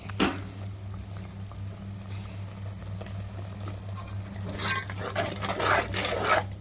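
Gongura curry with prawns simmering in a pot in a village kitchen, a steady low bubbling with a few louder clatters and splashes toward the end, no talk.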